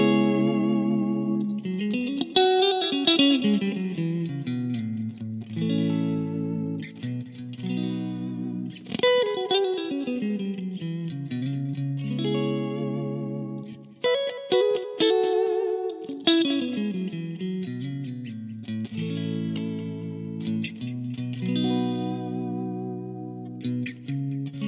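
An electric guitar plays through a Mission Engineering Gemini 2 FRFR cabinet, set in the full-range region, with chorus, light distortion and reverb. Melodic phrases with sliding and bending notes and short pauses come through clearly, with no talking.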